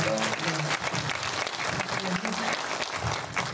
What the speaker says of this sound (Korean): 작가님께 큰 박수 부탁드립니다